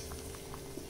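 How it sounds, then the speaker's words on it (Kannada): Red amaranth sambar bubbles in a pot over a medium flame, a soft, close, steady burble of boiling liquid with small pops and no voices. "ಈಗ ಈ ಕಡೆ ನಮ್ಮ ಹುಳಿನ ಮೀಡಿಯಂ ಫ್ಲೇಮಲ್ಲಿ ಕುದಿಸ್ತಾ ಇದ್ದೆ, ಚೆನ್ನಾಗಿ ಕುದ್ದಿದೆ"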